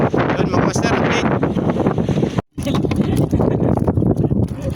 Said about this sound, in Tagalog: Medyo mahangin pa oh.